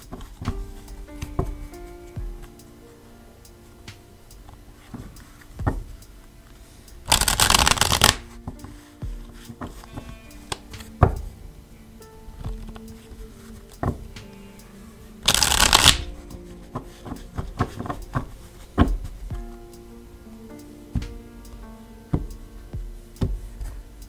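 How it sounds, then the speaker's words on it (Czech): Tarot cards being shuffled by hand, with two loud, dense bursts of riffling standing out from quieter card handling, soft taps and small clicks throughout. "já už si tady zamíchám karty"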